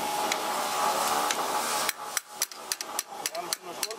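Metal tool struck with a hammer to free a stuck coil spring on a Toyota Tercel/Paseo front shock absorber: after a steady background hum, about a dozen sharp, close metallic knocks come in an uneven series.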